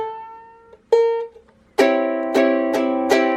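A ukulele chord strummed four times in a steady rhythm after a couple of single notes, ringing slightly sour and out of tune.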